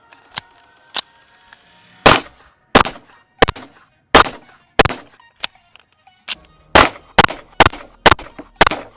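An Alpha Foxtrot 1911-S15 pistol fired outdoors while zeroing a red dot sight, sharp loud gunshots, a few spaced early shots and then a steady string of around a dozen rounds at a brisk rhythm.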